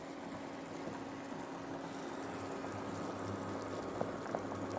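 A pot of potatoes boils steadily, with a constant close bubbling and hiss and no voices.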